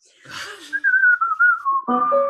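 A person whistles a single melodic line from a Bach French Suite, clear sustained notes gliding in pitch, close and alone after a brief murmur, ending as piano-like tones enter.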